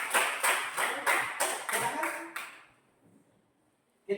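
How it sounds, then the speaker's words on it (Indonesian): A class of students applauds a presenting group in a school lesson, a burst of rapid clapping for about two and a half seconds that quickly thins and fades into quiet. "kita beri aplaus dulu untuk kelompok 2"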